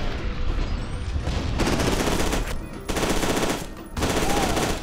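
Rapid bursts of automatic gunfire from a video game, loud and dense, coming in sustained volleys with brief gaps between them, with faint background music and no clear talk.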